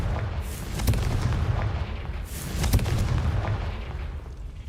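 Fiery Confringo blast spell in Hogwarts Legacy, sounding as two heavy booming bursts around the one- and three-second marks over a continuous rumbling game backdrop, with no talking.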